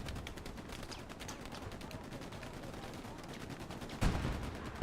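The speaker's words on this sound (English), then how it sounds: "You can hear the rockets being thrown." In the Hell Let Loose video game, rockets and gunfire crackle in rapid, continuous bursts at a distance, fairly faint, with a heavier blast near the end.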